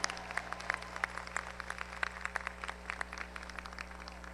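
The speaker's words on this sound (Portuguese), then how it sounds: "Segunda colocada, aplausos para Paola Tessarolo." A small audience claps for a second-place finisher at an award ceremony, sparse distinct handclaps over a steady low electrical hum, faint and somewhat distant.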